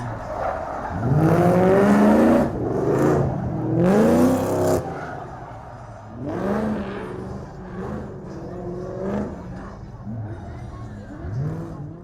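A Ford Mustang drift car at a drift event revs hard, its engine rising and falling in loud sweeping bursts with tire noise, then continuing more moderately for the rest of the run.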